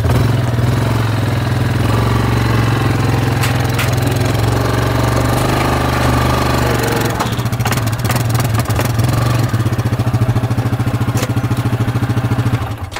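A brand new four wheeler ATV engine runs loudly and close, its throttle revved in a rough, pulsing growl that holds steady, then surges into rapid rattling bursts near the end.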